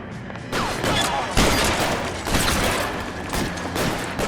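Loud, dense shotgun blasts and chaotic gunfight noise from the video game L.A. Noire fill the clip, with heavy booming reports over a constant din.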